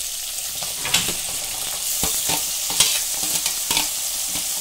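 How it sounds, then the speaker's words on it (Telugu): Long green chillies frying in oil in a pan for a Godavari-style fish curry, a steady close sizzle with repeated scraping and clinking stirs throughout. "ఇలాగా పచ్చిమిర్చి వేగిన తర్వాత ఉల్లిపాయ ముద్ద వేసుకుందాము."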